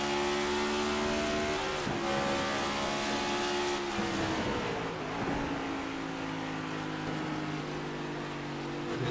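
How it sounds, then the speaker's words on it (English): A next-gen stock race car in a racing simulation game at Gateway (WWT), its front splitter dragging on the track on corner entry amid loud engine roar, steady revving tones sliding down in pitch with rough scraping texture, close and continuous. "Sounds like the front splitter dragging the racetrack a lot here on the entry of 1."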